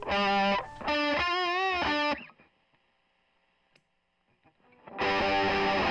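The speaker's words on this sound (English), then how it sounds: "you throw the treble booster into the mix and it helps shape and push the tone into" An electric guitar played through a Bishop Pedals Big Treble treble booster pedal rings out in distorted, sustained bent notes, decays into near silence, then a loud chord strikes again.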